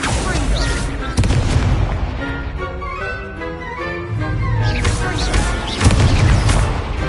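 Spell-casting effects in Hogwarts Legacy, with an Incendio fire spell among deep booming blasts and bursts, loud and continuous over dense game music and effects.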